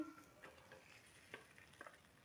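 Rohu fish frying in hot oil, a faint steady sizzle with small crackles and pops scattered through it, no voices.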